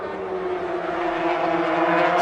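Racing motorcycles at a race with Valentino Rossi and Locatelli competing, a steady loud engine drone with whining harmonic tones that builds slightly toward the end, with no voices.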